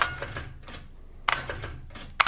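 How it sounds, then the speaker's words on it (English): An IBM 6780 Quietwriter electronic typewriter types corrected text in short bursts of rapid mechanical strikes, separated by quiet gaps, close and moderately loud. "So now I can type in the corrected text."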